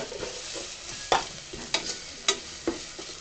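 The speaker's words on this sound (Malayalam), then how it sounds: "ഇനി അതിലേക്ക് നമ്മൾ നടുവെ പിളർന്ന് വെച്ചിരിക്കുന്ന പച്ചമുളക് ആഡ് ചെയ്യാം." Slit green chillies drop into a hot frying pan for a Kerala-style pepper chicken curry, giving a sizzle with several sharp crackling bursts and stirring scrapes over about three seconds.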